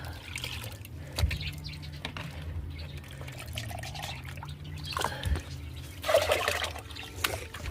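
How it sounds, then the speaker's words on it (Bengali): Homemade liquid fertilizer made from banana peels and vegetable scraps is scooped out of a 5-litre container of water, giving close, intermittent drips and trickles with a few louder splashes. "এবার এইটা এই 5 লিটার জলের মধ্যে 1 লিটার জল আমি নিয়ে নেব।"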